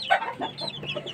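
Gamefowl in a chicken coop cluck in quick, close, short calls, several bursts tumbling over each other within a second.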